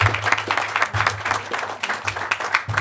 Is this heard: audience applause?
yes